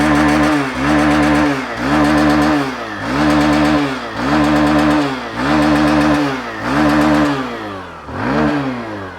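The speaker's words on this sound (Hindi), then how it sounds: "आइडियल कंडीशन पर इंजन साउंड सुनो, एग्जॉस्ट नोट सुनो। थ्रॉटल देता हूँ।" A Hero Super Splendor Xtec motorcycle engine revs up and drops back again and again in a steady rhythm. The exhaust note is loud and close, with about six throttle blips and no talk.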